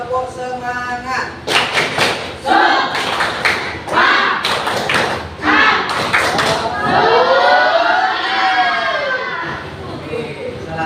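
A classroom of students performs a rhythmic clapping chant, loud patterned claps and thumps in bursts alongside the group's voices and a teacher talking.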